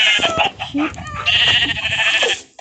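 Several sheep bleat in close succession at a farm, loud and near, with overlapping calls over roughly three seconds.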